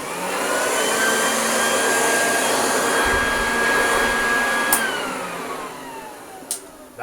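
A toy vacuum cleaner's small motor whines steadily, then winds down and fades near the end, followed by a couple of clicks.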